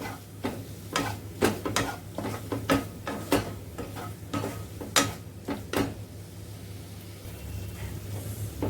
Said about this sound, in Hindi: और अब इसको भूनने देंगे जब तक टमाटर गल नहीं जाते।